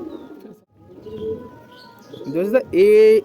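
Pigeons coo in low, throaty bursts near the end, with softer bird chirps and faint background voices earlier.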